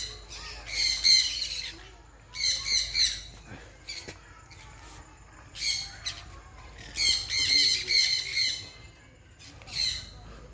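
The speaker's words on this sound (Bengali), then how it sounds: "কি সুন্দর পাখির আওয়াজ" Many birds squawk and chatter in repeated loud bursts on Netaji Subhas island in Murshidabad, with shrill calls rising and falling over quieter gaps of background ambience.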